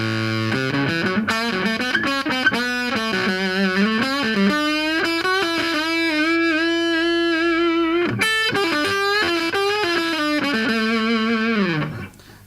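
A thick, saturated electric guitar lead, a Fuzz Face pedal stacked with a Classic Tube overdrive pedal, plays a long sustained melodic line, loud and upfront, ending with a fading note.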